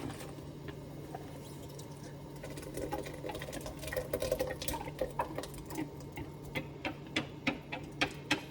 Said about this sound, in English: Mix it all up a little bit